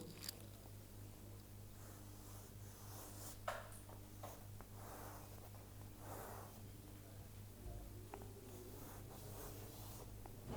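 A Vedic mantra is being written out by hand. Faint, intermittent scratching strokes sound over a steady low hum in a quiet room, with no talking.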